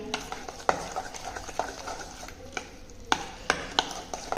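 A spoon stirs grated cucumber into batter in a pan for a bottle gourd paratha, with soft scraping and several sharp clinks against the pan edge at irregular intervals, close and fairly quiet.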